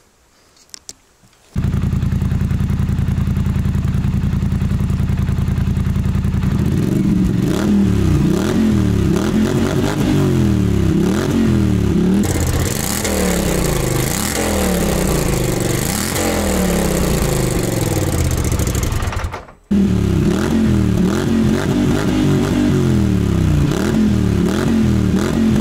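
A 2017 Polaris Sportsman 1000 XP ATV engine with a homemade quiet exhaust starts and runs loudly with a rough, buzzy exhaust note, revving up and down repeatedly, cutting out briefly near the end before continuing.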